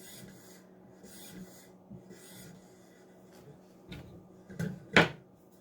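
A knife blade drawn across a sharpening stone or rod in a couple of quick rasping passes, the last stroke loudest, after softer scraping and faint handling noises, with no talking.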